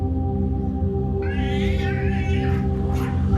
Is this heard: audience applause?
no